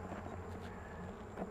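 Honeybees at a backyard hive hum in a faint, steady buzz, with a few soft rustles and bumps nearby as a frame is handled.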